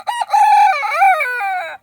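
A rooster in a backyard coop gives a single close, loud crow lasting under two seconds, with no other sound around it.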